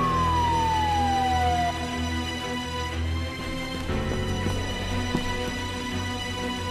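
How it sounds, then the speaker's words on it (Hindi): An ambulance siren wails with a falling tone, then holds steady under low traffic rumble, fairly loud and close. "ये एम्बुलेंस कहाँ रह गई आखिर? एम्बुलेंस जल्दी!"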